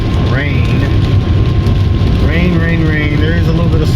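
Rain falls steadily while a car drives on a wet road near Seattle at about 40 degrees, a constant hiss of rain and tyre spray mixed with engine rumble, as a voice talks over it inside the car.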